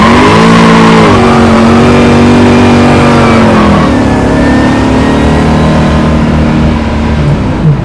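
A 1974 AMC Javelin hot rod launches hard from a dead stop with poor tire grip, its engine roaring loud and close as the pitch climbs, dips at a shift, then climbs again throughout.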